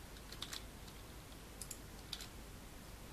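Quiet typing on a computer keyboard, a few scattered light key clicks in small clusters over a faint background hiss.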